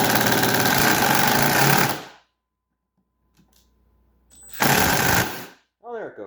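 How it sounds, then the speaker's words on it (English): Impact screwdriver backing screws out of a Toro Snow Pup snowblower, two loud sustained rattling hammering bursts close by, split by a near-silent gap with faint clicks, then a brief spoken remark at the end. "I'm going to take it out with the impact"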